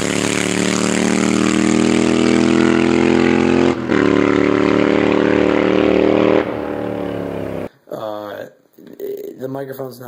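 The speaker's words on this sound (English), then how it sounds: "Because I'm running drag pipes on my bike, and it's really, really loud." A motorcycle running drag pipes drones with a loud, steady rumble for several seconds, then cuts out, and a voice follows.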